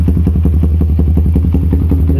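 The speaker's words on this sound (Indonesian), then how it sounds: "Jadi di sini knalpotnya kita gunakan proliner." Close up, a Yamaha New Vixion Advance motorcycle idles loudly through a Proliner aftermarket exhaust, its engine fitted with a BRT Juken 5 dualband ECU, producing a rapid, even chain of deep thumping exhaust pulses with light clatter and no pauses.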